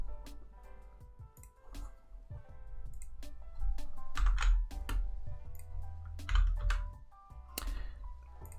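Close computer keyboard typing in short irregular bursts of clicky keystrokes, with brief pauses between runs and a low steady background hum.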